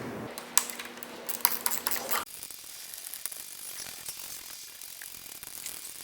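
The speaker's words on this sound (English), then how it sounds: "make sure you tighten down the 4 bolts evenly on each singular clamp" A hand ratchet clicks in quick bursts while tightening the handlebar clamp bolts on a Rosso Motors 500W kids ATV. Soft handling noises follow once the ratcheting stops.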